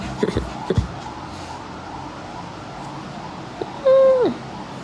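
A person imitates a cat's meow with one clear, drawn-out call near the end, after a few brief knocks and soft background noise.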